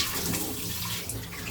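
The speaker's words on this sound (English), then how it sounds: "Washing my face with cold water helps me wake up properly" Cold water runs from a tap as someone washes their face at a sink, a steady close splashing hiss with no talk.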